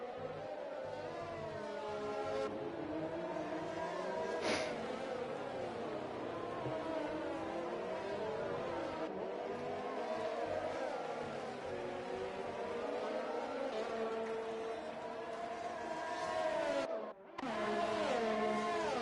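F1 race cars in an F1 esports video game at the Mexican GP whine past in a steady, overlapping engine drone with rising and falling pitch, mid-distance and fairly faint, under commentary talk.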